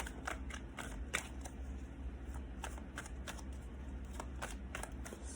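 A deck of tarot cards shuffled by hand close up, a run of crisp, rapid flicking clicks in short bursts over a faint low hum.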